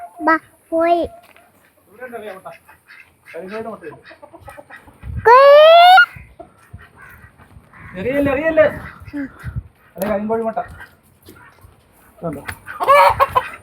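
A jungle fowl clucks in bursts at close range, mixed in with the chatter of children and adults talking.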